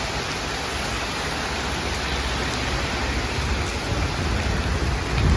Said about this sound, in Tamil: பாருங்கள் எந்த அளவுக்கு மழை பெய்யுதுங்க.